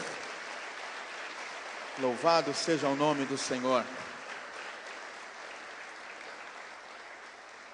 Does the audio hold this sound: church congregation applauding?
yes